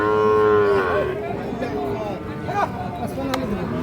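A Sahiwal bull calf about six to seven months old moos at a cattle market, one long loud bellow that falls in pitch, followed by shorter calls under market chatter and background noise.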